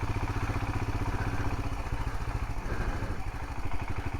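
Royal Enfield Himalayan motorcycle pulling away on a washed-out track, its single-cylinder engine thumping with a steady rapid pulse and mechanical clatter, loud and close throughout with no talk.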